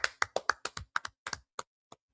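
A small group claps at a class meeting, around a dozen scattered, uneven claps that thin out and fade, fairly quiet and close.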